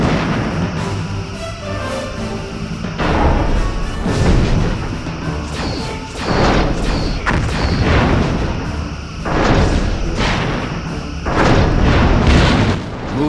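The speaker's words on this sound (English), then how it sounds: "Lining up forward torpedo tubes." Forward torpedo tubes fire in the Star Trek Bridge Commander space combat game: a run of heavy booming, crashing blasts at irregular intervals over a dense, rumbling background, loud and close.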